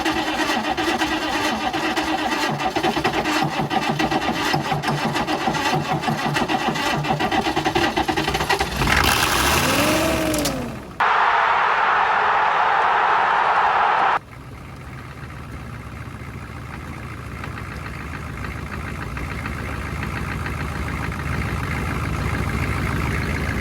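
Old Chevy 6.5 diesel engine that sat for five years, a long steady loud drone, a short change in tone partway through, then a quieter continuous running sound until the end.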